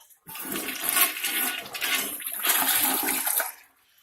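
A toilet flushes close by, water rushing and gurgling loudly for a few seconds before draining away to quiet.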